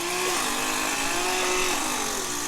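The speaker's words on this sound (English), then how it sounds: "somebody setting a chainsaw off the second you walk past" A chainsaw drones steadily nearby in an outdoor setting, its engine holding a continuous buzzing whine with slight pitch wavering throughout, and no voices over it.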